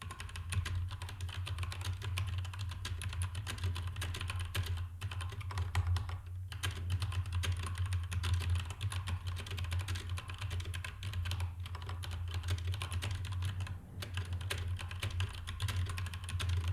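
Steady, fast typing on a computer keyboard during a typing lesson, dense clicking keystrokes continuing close and even throughout with only brief pauses.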